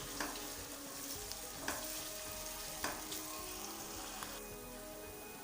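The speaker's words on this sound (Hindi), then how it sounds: "इसको भी अच्छी तरह से फ्राई कर लेते हैं।" A steady, bright sizzle of onions and garlic frying in hot oil, with a few sharp clinks of a utensil against the pan at regular intervals.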